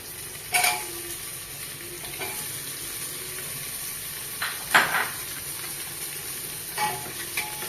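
Onions frying in a pan for chicken biryani, with a steady background sizzle broken by a few sharp scraping stirs and clatters of the spoon against the pan, close and alone with no talking.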